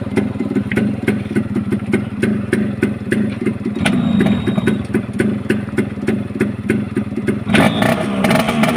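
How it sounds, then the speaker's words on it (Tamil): A used motorcycle engine runs at a close, loud idle with a rapid, even putter, picking up a brief burst of revving near the end. "இந்த வண்டியை ஸ்டார்ட் பண்ணி காட்டுறோம்"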